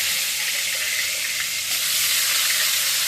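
Shrimp sizzling in hot oil, a loud steady hiss of frying that swells slightly toward the end, close and continuous with no voices.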